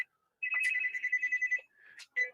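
A phone ringtone plays a bright electronic melody in a quick run of repeated tones, with a short pause and then another burst, clear and fairly close.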